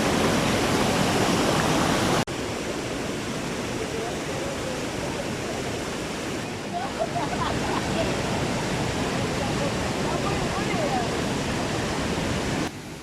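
Rushing rapids of the Río Claro in Támesis, Antioquia, Colombia, a steady loud broadband roar of churning water that fills the whole stretch, slightly heavier in the opening seconds before settling into a constant wash.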